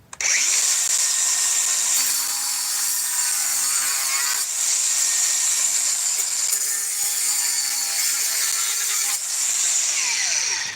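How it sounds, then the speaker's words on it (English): DeWalt 60-volt power tool cutting through half-inch steel rebar, a loud continuous high-pitched grinding whine, close up, with slight dips in load across the cut and a sharp stop at the end. "Cuts it like butter. Half-inch rebar."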